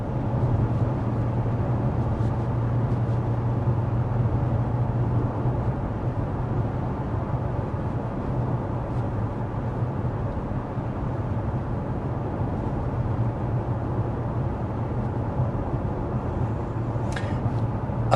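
Steady cabin noise inside a 2024 Mazda CX-5 cruising at 55 mph with the fan on speed 1: a constant low road and wind rumble with a faint blower hiss, even and unbroken throughout.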